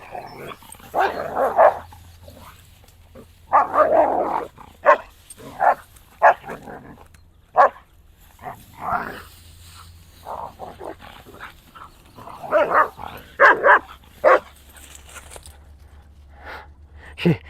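Sandy, a dog going on 10, barks, growls and snarls loudly in rough bursts while playing with another dog at a dog park, with a low steady hum beneath.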